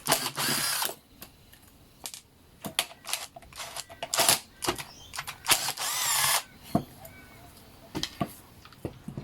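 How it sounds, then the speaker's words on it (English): Power driver with a T20 bit backing screws out of a Ryobi Lawn Hornet mower's pull starter housing, several short whirring bursts separated by clicks and handling knocks, close and fairly loud, with brief talk in between. "using the T20, just remove all 5 screws in the front"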